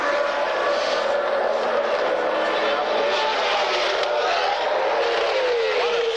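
Alan Jones' Williams Formula 1 car with a Ford engine screams past at the United States East Grand Prix, Watkins Glen, a loud sustained high-revving whine with a slight pitch drop as it passes, under a commentator's voice.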